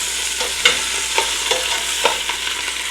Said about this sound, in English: Getting these little guys seared off.